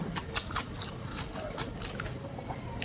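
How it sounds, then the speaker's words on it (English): Crunchy fast-food fried chicken coated in sour cream and onion, bitten and chewed up close, with a few sharp crunches standing out over a quiet chewing sound. "dah lama tak makan ayam fast food yang begitu-begitu crunchy, betul-betul crunchy ya"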